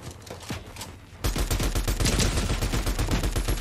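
Rapid automatic gunfire from a Fortnite match: a quieter burst at first, then a loud, dense stream of shots that runs continuously to the end, with no talk over it.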